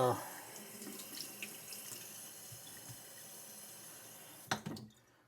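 Running tap water rinses honing slurry off a straight razor in a sink, giving a steady, soft, close-up hiss that stops abruptly with a brief clunk near the end.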